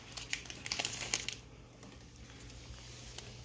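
Plastic packaging of a mouse glue board being torn open, with a few sharp crinkling rustles close by at first and then fading into quiet room noise.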